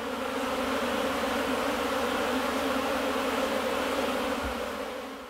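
Africanized honeybees from a wild colony on an off-grid homestead, a dense continuous buzzing hum heard close and loud, steady throughout and easing off slightly at the end.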